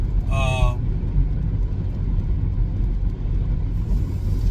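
Steady, loud road rumble and engine drone inside a car speeding along a 70 mph highway, continuous throughout, with a brief voice near the start.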